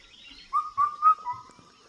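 Four clear whistled notes from a kafal pako bird (Indian cuckoo) ring out in a steady falling rhythm, moderately near and alone against a quiet outdoor background.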